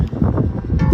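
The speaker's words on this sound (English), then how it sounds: "Sorry about the wind." Gusty wind buffets the microphone in rumbling low surges, loud and close, with no voices, beside a Pit Boss Phoenix pellet-charcoal smoker grill outdoors in cold weather.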